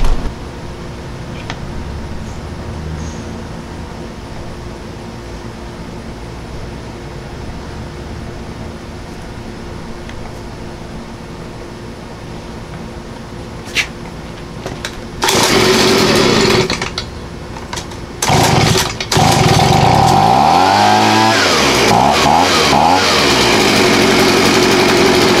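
A Stihl gas leaf blower is pulled and sputters, then starts and runs at a loud, steady roar with revving swells, following a stretch of quiet background.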